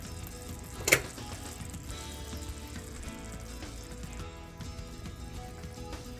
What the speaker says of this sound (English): we have our French toast frying up in the butter